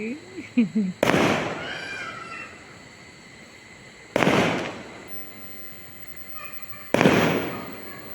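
Festival firecrackers go off in three loud, sharp bangs spaced a few seconds apart, each followed by a fading echo, with brief vocal sounds just before the first blast.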